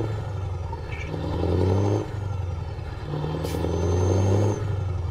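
A heavy truck engine in the Euro Truck Simulator 2 driving game drones low and steady, its pitch rising and falling as it revs, loud and close with nothing else over it.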